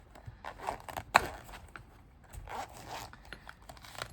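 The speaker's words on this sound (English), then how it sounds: "So zip up case." A zip-up knife case being unzipped for an Artisan Cutlery Proponent knife, giving a close, quiet run of scratchy zipper rasps with one sharp pull in the middle, then soft rustling.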